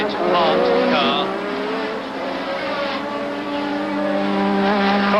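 Formula One race cars howl past at the British Grand Prix at Brands Hatch, loud high-pitched engines rising and falling close by, with a commentator talking over them.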